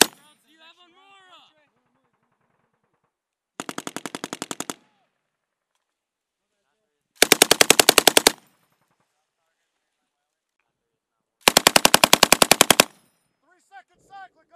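Machine gun firing during a Bayonet Focus live-fire exercise: three separate rapid bursts of loud, evenly spaced rounds with silent gaps between them, and shouted voices at the start and end.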